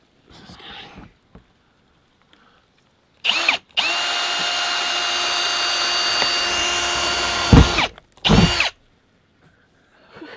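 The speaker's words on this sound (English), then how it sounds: "You're drilling holes in a brand new Mercedes, Dan." A power drill bores a hole through the roof of a brand-new Mercedes Sprinter 4x4 van, starting in a short burst and then running in one steady, loud, high whine for about four seconds, followed by a few brief final bursts.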